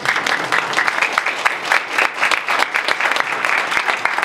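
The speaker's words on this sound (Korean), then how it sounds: "박수가 나오는 중입니다." An audience at a lecture on Lone Star and banking regulation claps steadily, a dense, even patter of many hands sustained throughout at close range.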